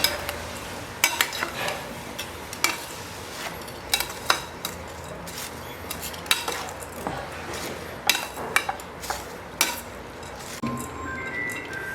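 Grated coconut roasting in a pan with cashews and cardamom for a sweet aval dish, with soft sizzling under repeated scraping and clinking strokes of a ladle against the pan, sharp and fairly close.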